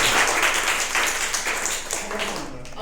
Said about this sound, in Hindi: इसके लिए आप लोग एक बार अपने लिए ताली बजाएं